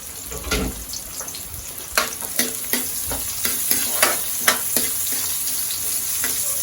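Onions fry in a hot pan for pork lung and heart bopis, a continuous loud sizzle punctuated by a regular series of spatula scrapes and knocks, close up and without speech.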